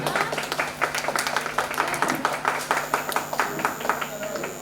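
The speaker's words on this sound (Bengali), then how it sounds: "হাততালি হাততালি ডবল" A small crowd at an apartment Saraswati Puja celebration claps steadily and fairly loudly, a dense run of hand claps mixed with talking voices.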